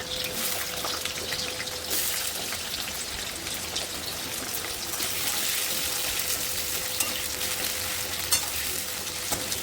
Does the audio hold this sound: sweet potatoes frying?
yes